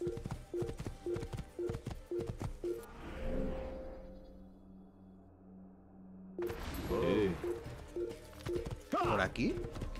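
Horse hooves clip-clop in a steady rhythm while riding in the 2007 Assassin's Creed video game, fading out midway through a quieter stretch and then returning, with someone talking over parts of it.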